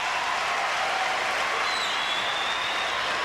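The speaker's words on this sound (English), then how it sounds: "Listen to the crowd" Crowd at the 2000 US Open tennis match cheering and applauding for Andre Agassi, a steady, dense roar of clapping and voices from a packed stadium throughout.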